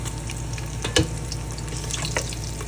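Garlic frying in hot cooking oil in a home kitchen, crackling and spattering steadily, with a sharper pop near the start and another later on.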